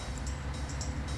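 Game train from Chris Sawyer's Locomotion rumbling steadily along the track, a low continuous rolling drone with faint high hiss above, no talking.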